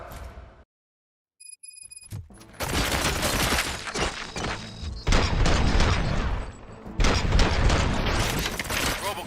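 Loud bursts of rapid video game gunfire after a brief silence, sustained volleys of shots and explosions filling the scene.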